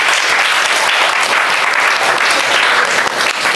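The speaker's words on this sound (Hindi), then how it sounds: "ताली बजा दीजिए" Classroom applause during a chemistry lecture, a dense, steady burst of many hands clapping at once, loud and close, holding evenly for a few seconds with no talk over it.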